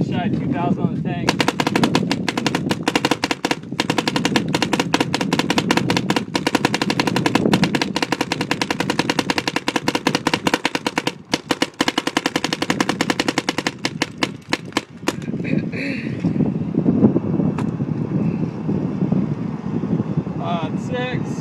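A 2012 Alien Invasion paintball gun rattles off a long, rapid fully automatic stream of shots for about fourteen seconds before stopping, with wind buffeting the microphone throughout.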